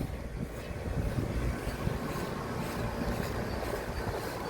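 A brand-new Trane Odyssey central air conditioner, a split unit with swept fan blades at an apartment complex, runs with a steady, fairly quiet broadband whir and low rumble, continuous throughout with no speech.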